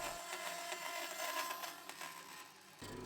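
Saw cutting a wooden shape along a template for a mid century modern bureau, a continuous buzzing rasp of blade through wood, close and steady, ending abruptly near the end.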